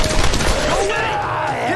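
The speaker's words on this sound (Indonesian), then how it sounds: "malah ada suara tembakan" Gunfire in the Tomb Raider video game, a short burst of shots under a busy, dense game soundscape with some tonal music or effects and a voice faintly present.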